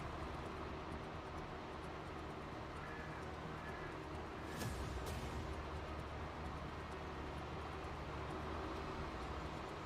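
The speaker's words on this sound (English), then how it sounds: "There's that train." A train with American-style rail cars rolls past outdoors, a steady low rumble and rattle holding through the whole stretch, with a brief sharper clank near the middle.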